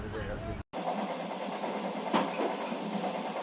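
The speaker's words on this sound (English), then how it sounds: "we are in the train now towards a little town outside of Beijing" Passenger train rolling through countryside outside Beijing, a steady rumbling interior drone with faint rhythmic clatter, heard from inside the carriage with a brief dropout near the start.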